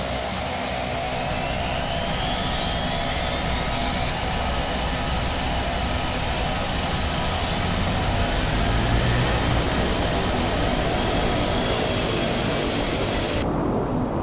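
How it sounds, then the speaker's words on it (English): A Short 360 turboprop engine in a flight simulator game spins up into a steady, loud, continuous drone with a broad roar and high whine that holds throughout, with no talking. "that's now the engine's fired up"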